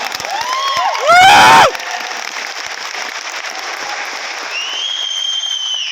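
An auditorium crowd at Sri Sathya Sai Nigamam in Hyderabad applauds and cheers, with shrill whistles and a loud burst of shouting early on over continuous clapping that later carries on at a steady level.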